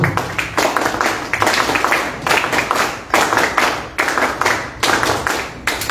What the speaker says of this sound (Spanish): Palmas para él, por favor.